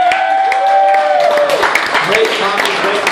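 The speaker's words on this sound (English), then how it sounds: "You all deserve a round of applause." Applause and clapping swell from a comedy show audience partway through, rising under a voice that carries over the start.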